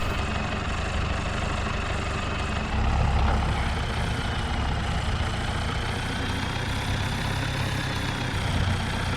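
Zetor tractor engine running on a farm, a steady low diesel rumble with a brief surge in the middle, close and continuous with no talk.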